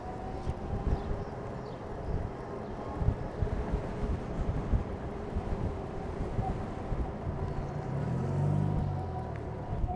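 Alrendo Bravo TS, a 2022 125cc-class electric motorcycle, riding in sport mode with steady wind roar buffeting the microphone and a low continuous drive hum throughout, swelling slightly near the end.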